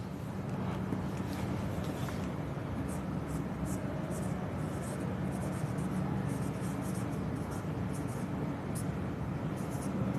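A pen scratches out notes by hand during an economics class, giving a soft, continuous scraping texture under a steady hiss of room noise, with faint brief strokes and no clear speech.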